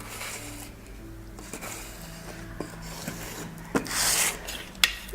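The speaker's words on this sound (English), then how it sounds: "so that you're just smoothing it off and making sure that it's nice and neat right the way around the bottom" Close rubbing and scraping from a cake smoother worked around the bottom of an icing-covered cake dummy, a soft rasping friction that comes in strokes. A few sharper scuffs and ticks stand out near the end.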